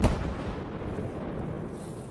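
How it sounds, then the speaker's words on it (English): An avalauncher fires a shot outdoors, a sharp loud blast at the start followed by a long rumbling echo rolling off the surrounding rocks and slowly fading. "The avalauncher is primed and ready for another shot."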